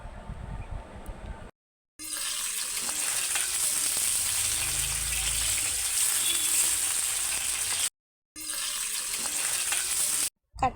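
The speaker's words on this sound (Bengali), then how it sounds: "এখন আমি কাটাগুলো যে মেখে রেখেছিলাম সেগুলো ভাজতে দিয়ে দেব।" Marinated pomfret fish bones fry in oil in a wok, giving a loud steady sizzling hiss that runs almost unbroken, cut by two brief silent gaps, with no talking.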